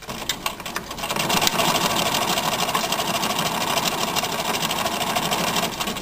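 Sewing machine running close and loud along the edge of bias tape on a fabric tissue holder, a dense continuous whirring stitch that starts with a brief stutter and then holds steady.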